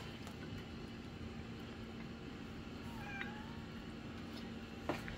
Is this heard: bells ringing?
no